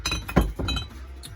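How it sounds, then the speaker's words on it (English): An old glass bottle dug up in the UK clinks and knocks as it is handled, with a loose old cork rattling inside in quick, close, bright taps alone. "The old cork still rattling around in the bottom there."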